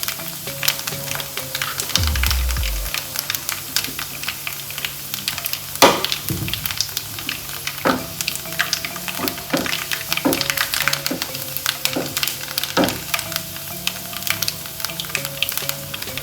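Mustard seeds and a teaspoon of rice fry in hot oil for a Kerala ivy gourd dish, making a continuous close sizzle broken by scattered sharp pops and crackles of bursting seeds, with no talking.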